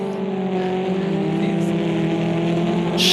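Race car engine in the Automobilista 2 sim racing game drones loudly and steadily, with a brief gear change near the end as the pitch shifts; no voices over it.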